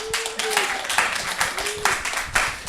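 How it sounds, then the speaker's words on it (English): Applause and clapping from a live comedy podcast audience at a comedy club, a steady wash of claps with a few whoops over about three seconds while voices call out above it. "Round of applause for 2D body."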